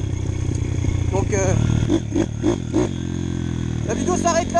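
A 2012 CRZ 150 motorbike on its original engine, fitted with a 150 V3 kit, runs loud and close. Its tone shifts as it revs, with a quick series of rhythmic pulses near the middle and a rise toward the end.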